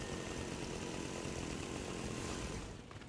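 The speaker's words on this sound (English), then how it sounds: "I got another guy with a chainsaw on him." A chainsaw in Fortnite revs in a continuous buzzing roar, loud and close, then drops away at the very end.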